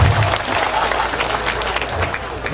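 Applause from an audience at an Indonesian religious haul gathering, a dense steady clapping wash lasting the whole moment at moderate loudness, with faint crowd murmur underneath.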